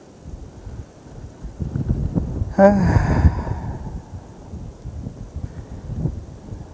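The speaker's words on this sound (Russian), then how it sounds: "Ветер просто ураганный." Strong stormy wind on an outdoor carp-fishing trip in May buffets the microphone with a continuous rumbling roar that swells in gusts, and a short breathy exclamation from a man cuts through midway.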